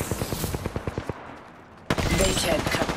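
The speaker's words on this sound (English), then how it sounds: "Shots fired at me." Rapid bursts of automatic gunfire in the video game Apex Legends, loud rattling volleys, then a short pause before a denser, continuous stretch of shooting and in-game effects.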